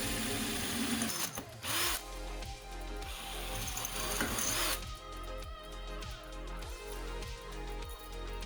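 A power drill whirs steadily through a round pipe, pausing briefly near the start before grinding on with a strained, pulsing motor tone, close and loud, with no talking.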